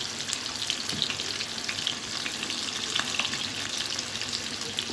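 Sliced onions frying in a pan, a dense continuous sizzle with crackling pops and occasional stirring, close and steady without any voices.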